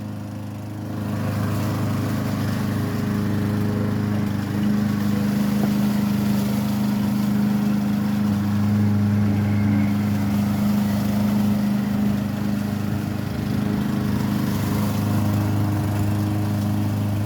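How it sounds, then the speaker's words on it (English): A lawn mower engine drones steadily nearby, a loud continuous hum with a fixed low pitch that holds without pause and no talking over it. "That goddamn lawnmower is pretty fucking obnoxious to me."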